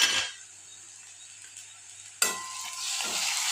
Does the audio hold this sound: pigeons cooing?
no